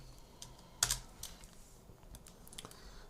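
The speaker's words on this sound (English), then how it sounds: "Press tab and type merge." Typing on a computer keyboard, a few quiet separate keystrokes with one sharper clack near the start, close and faint against a low room hiss.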